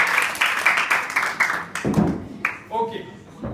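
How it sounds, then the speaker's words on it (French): Brief clapping from a small group at a training session, loud and close, fading after about two seconds into quieter room noise with a few scattered claps and faint voices. "On les applaudit très fort."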